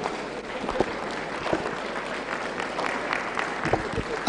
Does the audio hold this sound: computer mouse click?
no